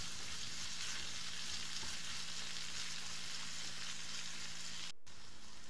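Menemen with kaşar cheese being stirred as it fries in a pan, a steady close sizzle throughout with scraping stir sounds and a brief dropout near the end.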